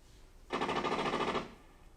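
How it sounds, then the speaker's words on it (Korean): A single short burst of rapid automatic gunfire in a stage play, about one second of fast rattling shots, fairly faint and muffled as if from another room. "엄마 방에선 총소리가 한참입니다."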